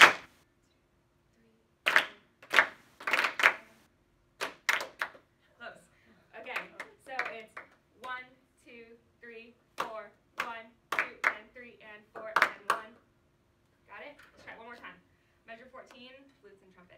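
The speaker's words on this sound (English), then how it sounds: "Measure 14, we're going to clap our rhythms here." Beginner band students clap rhythms in sharp, close bursts, some single and some in quick clusters, with a voice speaking in the gaps between them.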